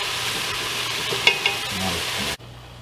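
Onions and garlic sauté in a pan with a bright, steady sizzle and a couple of light utensil clicks, before the sound cuts off abruptly.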